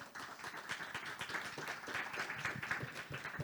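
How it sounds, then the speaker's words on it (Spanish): A panel audience at a youth summit on menstrual justice gives applause for the panelists: steady, moderately distant clapping from many hands with no standout voices. "Un aplauso para ellas."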